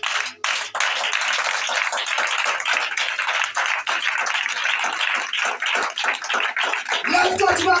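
A church congregation claps and cheers in acclaim of Jesus Christ, a dense, loud, continuous wash of applause with rhythmic clap accents and voices mixed in throughout.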